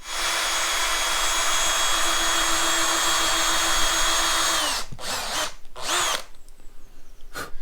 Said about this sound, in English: use a 4mm drill, put a piece of wood behind and drill through the fabric